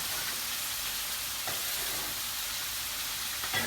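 Satay chicken skewers sizzle and fry steadily in a pan, a continuous close hiss with a couple of faint clinks, no talking.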